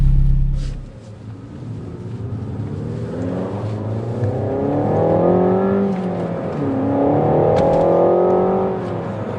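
A Renault Megane RS 300 Trophy engine revs and accelerates up through gears, its rumbling growl rising in pitch twice, loud and close.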